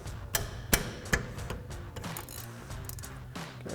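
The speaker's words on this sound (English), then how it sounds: "Then we're gonna grab a 16mm ratcheting wrench and break our 2 caliper mounting bolts loose." A 16mm ratcheting wrench breaks loose the brake caliper mounting bolts on a 2009-2018 Ram 2500, with a few sharp clicks and knocks over a low background rumble, close.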